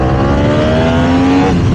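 Yamaha R1M motorcycle engine revving steadily on a dyno, a loud, close, continuous mechanical roar with rising pitch through the gears.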